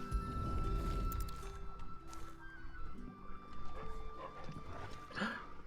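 A dog whimpers briefly near the end in Final Fantasy 16, a soft rising whine over a busy bed of game ambience and low rumble.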